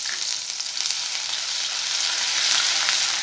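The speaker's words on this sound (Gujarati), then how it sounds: "અને આપણે થોડા એને પણ સાતળી લઈશું" Crushed ginger, chili and garlic sauté in hot oil that already holds mustard seeds and cumin, giving a loud, continuous close-up sizzle with fine crackling that swells slightly toward the end.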